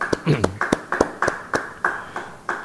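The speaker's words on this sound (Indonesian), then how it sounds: "Yang percaya beri tepuk tangan bagi dia." An audience at a church Bible study session claps in a slow, sparse rhythm of about nine distinct claps, with a voice briefly heard near the start.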